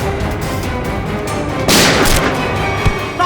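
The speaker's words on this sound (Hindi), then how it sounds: "अंदर से गोलियां चलने की आवाज आ रही है।" A loud burst of gunfire cracks out over a rumbling background, followed by a single sharper shot a moment later.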